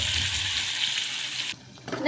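Spice paste hitting hot oil with cumin and mustard seeds in a pan, a loud, dense sizzle that runs steadily, then cuts out abruptly and returns briefly at the end.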